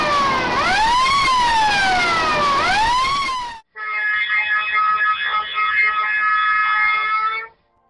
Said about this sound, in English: These are the alarms in case of fire.